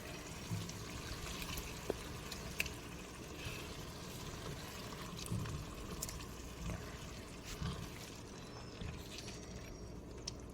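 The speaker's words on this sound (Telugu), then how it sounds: "ఈ నీళ్ళు పోస్తున్నాను చూసి పోసుకోండి" Water is poured quietly and steadily into a pot of chicken curry, a soft continuous trickle with faint clinks of utensils nearby.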